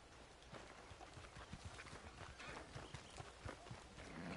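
Horse hooves thud in a quick running rhythm across ground in Red Dead Redemption 2, a steady galloping clatter under ambient game sound.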